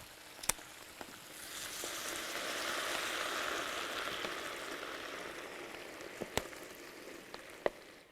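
Beer pours into a hot wok of spicy stir-fried crayfish with a steady, swelling sizzle and hiss, rising gently in the middle, with a few sharp clinks and taps of a spatula.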